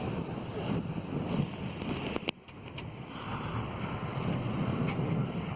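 Big sea waves wash around a sailing boat on an open passage, a steady rushing roar of water and wind noise running throughout, with a brief sharp knock near the middle.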